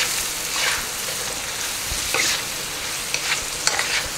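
Onions sautéing with spices in a pan over a medium flame, a continuous close sizzle with repeated stirring scrapes and a few sharp clinks of the spoon, fairly loud with no speech.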